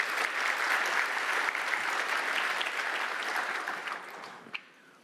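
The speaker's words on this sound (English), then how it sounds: "Can we give Rob another quick round of applause?" Audience at a software technology conference opening keynote breaks into applause, a dense wash of clapping that holds steady for about four seconds before tapering off quickly into quiet.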